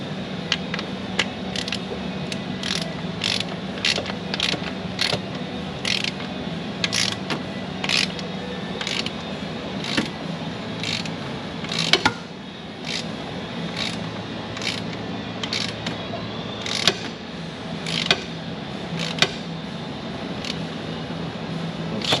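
A ratchet wrench tightens a jam nut on an injector cup of an ISX Cummins diesel engine, giving a long series of close, sharp clicks at an uneven pace over a faint mechanical hum.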